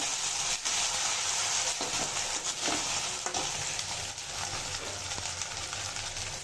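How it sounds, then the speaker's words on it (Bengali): Ginger paste fries with browned onions in a pan, a dense, steady sizzle with occasional stirring scrapes, close and fairly quiet, with no voices. "এখন দিয়ে দেবো আদা বাটা। আদা বাটাটা ভালোভাবে কষিয়ে"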